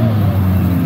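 Chevrolet Chevette race car engine running loud and close in the pit area, a steady low rumble with strong harmonics and a slight rise in pitch near the end.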